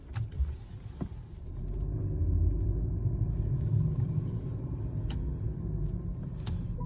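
A 2025 Mercedes C200 car rolls off from a start, its low engine and road rumble swelling gradually and then holding steady inside the cabin, with a few soft clicks and knocks near the end.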